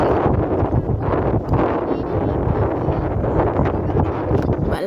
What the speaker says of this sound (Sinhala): බලන්නකො මේ හුළඟේ සද්ද